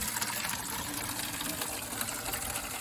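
Water gushes steadily from an opened 6 GPM fire hydrant, a continuous loud broadband rush with no pauses.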